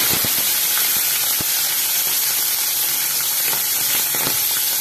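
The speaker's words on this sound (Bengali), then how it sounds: "এবার আমি এখানে পমফ্রেট মাছটা ছেড়ে দিচ্ছি, জাস্ট ভাজার জন্য।" Pomfret fish frying in hot oil gives a steady, loud sizzling hiss that runs unbroken, with small pops and crackles scattered through it.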